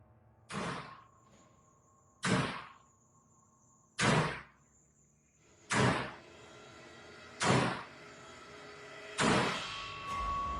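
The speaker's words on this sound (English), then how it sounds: "a spirit who violently slams the door of a fire hydrant" A door slamming shut repeatedly inside a morgue, six sharp loud bangs spaced about every one and a half seconds, each with a short ringing decay and faint tones between.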